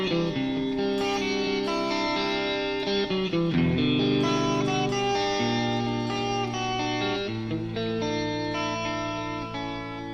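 Electric guitar plays an arpeggiated chord intro, sustained ringing notes with some effects processing, continuous and close, no talking.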